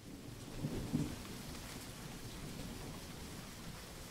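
In the video game Mare Deo, a storm pours steady, dense rain. A low thunder rumble rises early, then settles into a continuous wash, faint and without voices.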